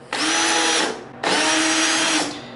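A power drill spins a tap bit into an aluminium V-slot extrusion, two steady whirring runs of about a second each separated by a short pause, close and loud with no talking.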